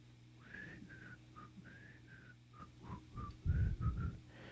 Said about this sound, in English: can you see, could you hear Andy Griffith being whistled there?